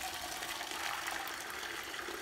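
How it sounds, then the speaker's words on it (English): Water pours into a cooking pot at home, a soft steady rushing gush that stays faint and even for a couple of seconds, with no talking. "all I'm doing is filling my pot full of boiling water"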